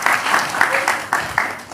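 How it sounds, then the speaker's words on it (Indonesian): Audience at an Indonesian election-themed talk show breaks into brief applause, a crowd of hands clapping in uneven bursts with a voice speaking faintly beneath. "Kita berikan tepuk tangan dulu."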